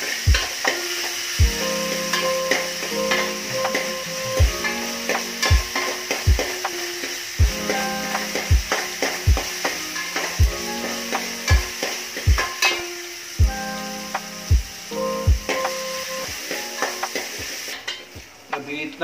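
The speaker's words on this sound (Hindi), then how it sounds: "अदरक पेस्ट उसके अंदर डालेंगे और इसको तरीके से मिलाएंगे।" Ginger paste stirred into a frying pan while cooking masala dal, a continuous loud sizzle punctuated by regular metallic clacks of the spoon against the pan, close by and without speech.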